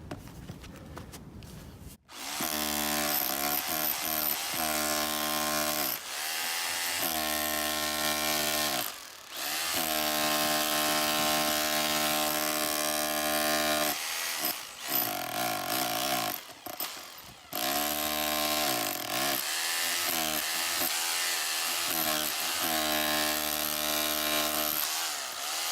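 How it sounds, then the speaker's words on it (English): A hammer drill breaking up concrete, roaring loudly and continuously in long bursts with brief pauses between them, close by and with no speech. "I do have a hammer drill, so I'm going to hope that the hammer drill will be enough to break it."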